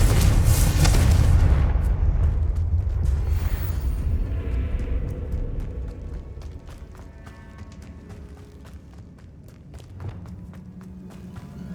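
In Hogwarts Legacy, a blasting spell detonates with a heavy, close boom that rumbles and fades over several seconds, followed by a patter of clattering debris and light crackles.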